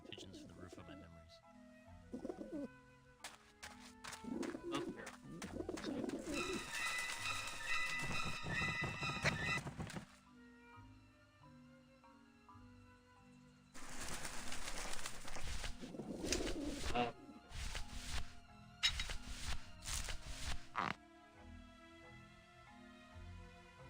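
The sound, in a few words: pigeons cooing in video game Grim Fandango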